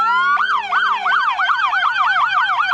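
A loud siren wails close by, rising into a rapid, repeating yelp that cycles quickly and steadily without pause.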